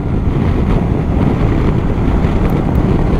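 Heavy, steady wind roar buffeting the microphone while riding a 2022 Honda CB500X motorcycle, a loud continuous rush with no break and no talk.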